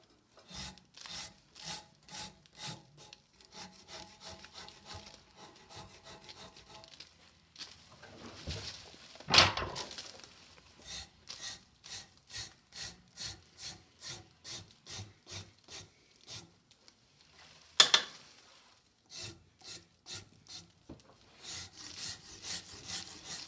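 Plaster is smoothed by hand-rubbing in a series of short rhythmic strokes, soft and close, with a pause and a few sharper scrapes between the runs of rubbing.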